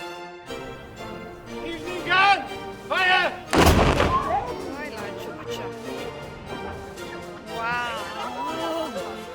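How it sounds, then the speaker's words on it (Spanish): A ceremonial cannon fires once in Valletta, Malta, a single booming blast with a rolling echo, heard at a moderate distance amid crowd chatter and people talking nearby. "acabamos de ver el cañonazo y no se lo pierdan"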